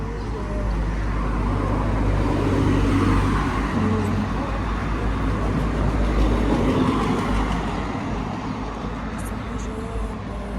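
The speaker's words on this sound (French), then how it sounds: "Mon bus arrive." A bus pulls in amid traffic, its heavy low engine rumble and road noise steady and close throughout, with a voice talking over it.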